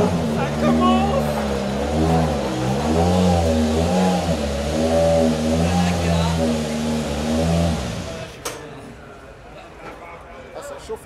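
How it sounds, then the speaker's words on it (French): A loud Toyota WRC rally car engine revs and roars up and down close by for several seconds at a rally in Corsica, then cuts off, leaving background crowd noise. "Ah, ça chauffe un peu le moteur."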